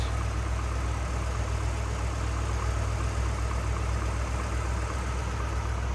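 A 1956 Chevrolet 150 two-door sedan's 283 V8 idles steadily in a dense low rumble, close and even throughout, with no voices.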